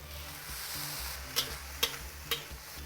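Fried rice with sausage sizzling in a wok as soy sauce is poured down the wok's edge, a faint steady hiss broken by three or four sharp spatula scrapes and ticks, heard alone.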